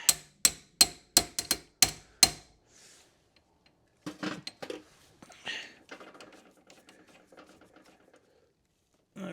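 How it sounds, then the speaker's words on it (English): A hammer taps a front spindle part on a Mercedes W126 about seven times in quick, sharp, even strikes, then softer metallic clinks and handling noises follow. "Give it a little tappy tap."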